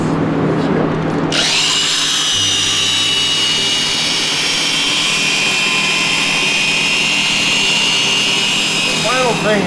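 A power tool grinds material off a boat hull during fairing, producing a loud, continuous whine close by with a steady gritty roar underneath, and a voice speaks over it.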